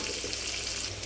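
Sliced onions and green chillies fry in hot oil in a wok for a vegetable dish, giving a steady, close, dense crackling sizzle with no pauses.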